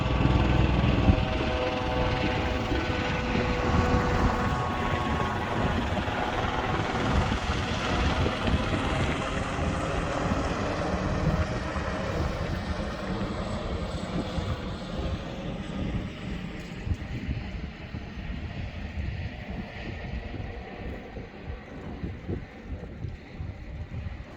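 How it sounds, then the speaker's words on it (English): Steady rotor and engine drone of helicopters overhead near an erupting volcano in Iceland, loud and broadband with some wind buffeting, slowly fading and thinning toward the end. "Lots of helicopters today."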